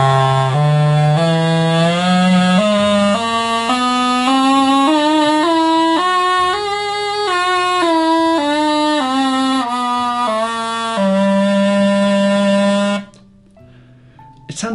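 A tenor sordun, a Renaissance double-reed wind instrument, plays its scale up and then back down in steady separate notes, buzzy and muted like a crumhorn, loud and close, ending with a held low note before falling silent.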